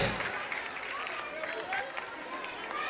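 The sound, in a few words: audience applause at school annual function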